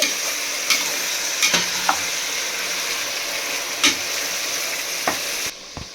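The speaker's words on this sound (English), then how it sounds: "Now add garlic paste, ginger paste. Mix well." Garlic and ginger paste is stirred in a hot pan while preparing mutton biryani: a constant bright sizzle with several sharp scraping strokes of the spoon, close up, until the sound cuts off near the end.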